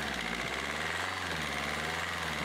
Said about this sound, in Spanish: ya después de unos cuantos intentos de arranque, ahí ya lo tenemos, ya arrancó